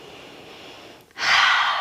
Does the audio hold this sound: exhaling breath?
yes